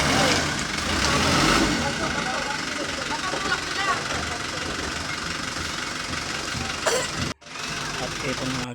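A Prime Water truck stuck across a road idles with a steady, loud, rumbling drone, with voices in the background. The sound drops out briefly near the end and then resumes.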